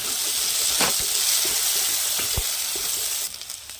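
Spice paste for restaurant-style kadai paneer sizzles loudly in hot oil, a dense steady hiss with a few sharp spatters and scrapes, easing off abruptly near the end; no one speaks.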